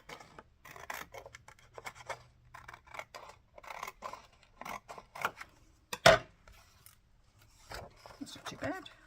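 Scissors trim paper for a handmade journal, a string of short, close snipping and sliding cuts in irregular bursts, one louder snip midway, with a person talking intermittently over them.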